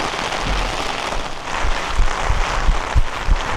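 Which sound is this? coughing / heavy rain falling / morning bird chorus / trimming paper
heavy rain falling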